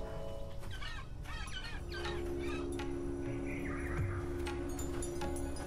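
Soft bird clucks and calls from a Broken Age scene sit low in the mix beneath steady game music, with a short gurgling call midway.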